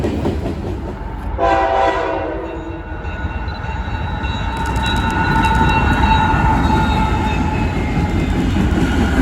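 A BNSF SD75 locomotive sounds a loud horn blast, then its train rolls past close by with a heavy, steady rumble and rail clatter that grows stronger as it goes.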